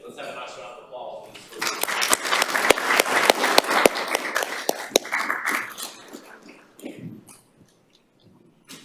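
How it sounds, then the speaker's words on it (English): A room at a town council meeting breaks into applause, scattered claps building to a brisk round, then thinning out to a few last claps, with murmured voices underneath. "Let's have a nice round of applause."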